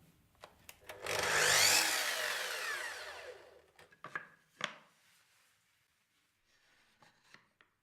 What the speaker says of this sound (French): on coupe la plinthe beau côté vers la scie, tête en bas